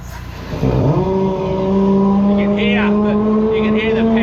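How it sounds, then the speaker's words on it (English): High-pressure drain jetter nozzle blasting water inside a root-blocked drain pipe, a loud steady roar with a rising whine that settles into a constant high tone as the nozzle nears an opening. "You can hear the power out of the nozzle as it gets closer to this opening."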